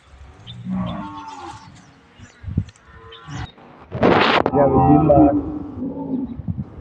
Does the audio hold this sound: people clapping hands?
no